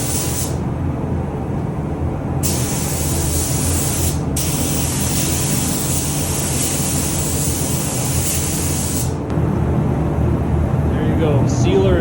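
A spray gun hisses sealer onto a plastic car bumper in long, loud, steady bursts, with brief pauses between passes and low background rumble.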